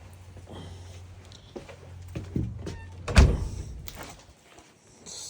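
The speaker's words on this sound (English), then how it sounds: "I gotta close the door." A door is pushed shut indoors with a solid thunk and brief rattle, followed by a short, fairly close settling knock.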